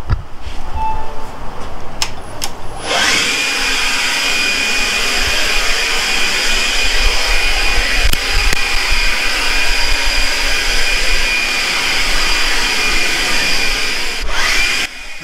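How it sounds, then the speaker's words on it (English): A Powerworks XB 20V cordless axial leaf blower runs nearby with a loud, steady high-pitched whine and rushing air for about twelve seconds, with a few clicks at start-up and shutdown. "I say this is a pretty nice blower"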